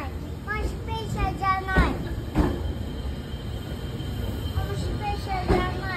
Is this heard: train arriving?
yes